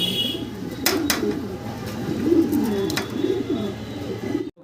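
Large red indigo fancy pigeons coo in soft, repeated low throaty phrases, close by, with a few brief sharp clicks and rustles over a faint background murmur.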